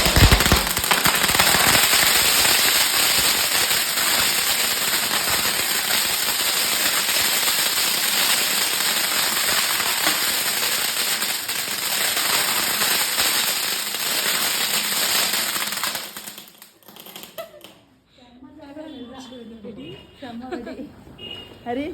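Diwali firecrackers burst in a dense, continuous crackling barrage for about sixteen seconds, loud and close, then cut off abruptly, leaving quieter scattered pops and voices talking.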